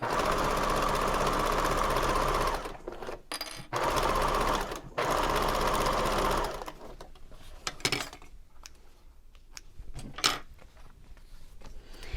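A sewing machine runs steadily along a braided boho bag seam at a 3/8 inch allowance, stops briefly and resumes, then gives way to quieter handling and clinks of the fabric and tools.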